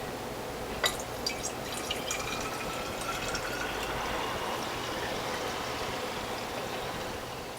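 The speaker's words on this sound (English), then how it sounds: "Now very, very carefully, because it's so full, I'm going to put this into bottles." Cantaloupe, turmeric and ginger juice is poured carefully into bottles, giving a steady liquid trickle with a few small drips and clinks early on, close and fairly quiet, no talking.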